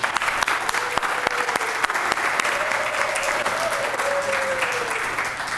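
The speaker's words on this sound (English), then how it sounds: "So one more round of applause for Pat Monahan before I bring up the mayor." Sustained audience applause at a portrait unveiling ceremony honoring former city manager Pat Monahan, a dense steady wash of clapping from a crowd with a faint voice or tone briefly audible underneath.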